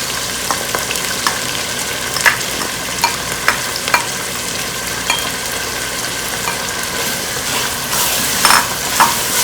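Crushed onion and green chilies frying in hot oil for a mutton curry, a steady loud sizzle broken by scattered scrapes and clacks of stirring, with no talk.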